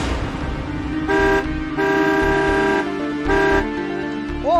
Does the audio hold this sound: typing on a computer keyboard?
no